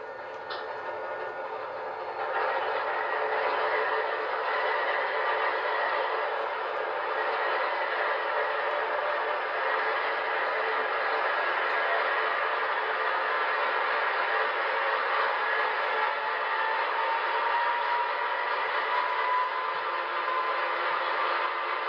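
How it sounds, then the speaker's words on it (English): An MTH HO-scale ES44AC model diesel locomotive powers up with its sound system, a steady rumbling engine drone that swells after a couple of seconds and idles on continuously without talk. "I'm going to go ahead and fire this locomotive up with MTH, it's F3."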